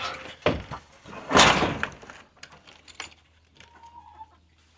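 Chickens clucking in a farm coop during freezing weather, a few scattered clucks and squawks with a louder burst early on, close by over low background hum.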